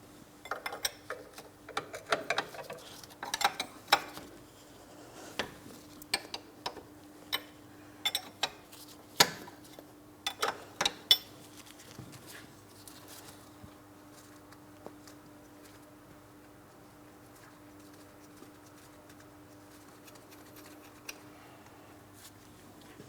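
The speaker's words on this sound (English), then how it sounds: "We're starting to unscrew it from the ball joint." An 18mm ball joint mounting nut is turned off with a wrench on a 2004-2008 Pontiac Grand Prix front lower control arm, giving a run of sharp ratcheting clicks and metallic ticks. The clicks are bunched early, thin out, and fade to near quiet.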